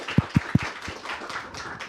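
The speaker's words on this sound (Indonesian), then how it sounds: "Kita berikan tepuk tangan untuk Pak Saleh." An audience applauds for Pak Saleh, a senior minister, at a talk-show event, opening with a few loud distinct claps before settling into light scattered clapping, fairly close.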